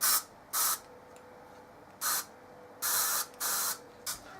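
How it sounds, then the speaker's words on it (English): Short bursts of spray paint hissing from a can into another can, six separate sprays of varying length with quiet pauses between, close by. "I'm going to put some spray paint into this can"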